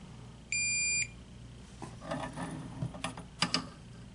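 A single steady electronic beep from a torque wrench hitting its 35 setting while an AR-15 free-float handguard is tightened, lasting about half a second, followed by faint clicks and handling noise.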